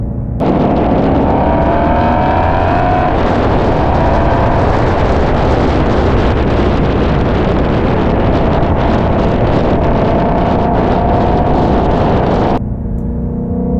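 A Shelby GT350's loud, roaring engine and exhaust with rushing wind noise fill the clip steadily for several seconds before cutting off abruptly.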